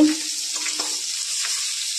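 Seeds, nuts and soybeans frying in a pan for a khichuri, a bright continuous sizzle with a few soft stirring scrapes and a brief clink at the start, close up and with no talking.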